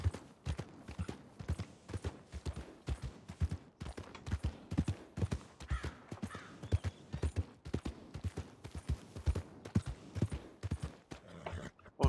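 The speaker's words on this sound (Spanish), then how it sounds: "Vamos a entrenar a los caballos." Horse hooves clip-clop steadily in a rough, repeating rhythm during horse training in the RedM Red Dead roleplay game, fairly close and continuous, with occasional faint voices and little sign of a clear whinny.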